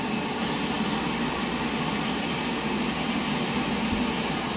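Bissell Bark Bath dog washing device running while bathing a Husky, a loud constant motorized whine and rushing hum like a vacuum, steady and close with no talk.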